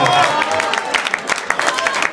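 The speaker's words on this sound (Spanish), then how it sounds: "Así es que un aplauso para el cuñado" An audience applauds a singer at a live music performance, with scattered claps building under a lively, continuous crowd noise and voices for about two seconds.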